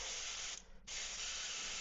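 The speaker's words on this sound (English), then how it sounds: "we will be spraying it from the side like that" Close airbrush hiss spraying silver paint onto a 3D-printed swimbait fishing lure, a steady airy spray that cuts out for a moment, then resumes, with no voices.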